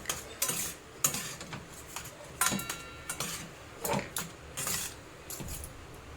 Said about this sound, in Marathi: असं चांगलं व्यवस्थित परतून घ्यायचं